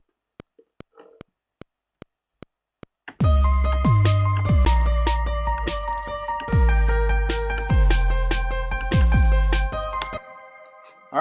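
After a few soft ticking clicks, a full electronic track kicks in with a deep, gliding bass line pulsing loudly beneath bright synth layers.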